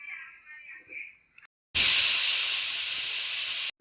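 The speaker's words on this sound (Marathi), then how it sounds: "आणि ह्याच्या 3 शिट्ट्या काढून घ्यायच्या आहेत." A loud, steady hiss of a pressure cooker whistle steaming rice for masala bhaat, bursting in suddenly after a brief quiet tone and holding for about two seconds before cutting off.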